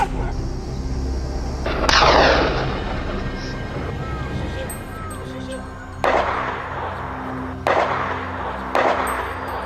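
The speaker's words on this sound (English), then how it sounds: "The sound of gunfire echoed relentlessly as one by one" Several loud gunshots ring out one at a time with pauses between during a wild boar hunt, each followed by a rolling echo, over a faint engine hum and occasional voices.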